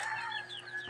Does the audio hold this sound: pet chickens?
yes